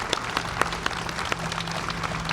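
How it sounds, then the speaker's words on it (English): Applause for construction workers at a CTA Red and Purple Line Argyle station grand opening comes as a thin, fairly faint spatter of scattered claps, with a low hum underneath. "Let's give a round of applause to the hard hats and friends here."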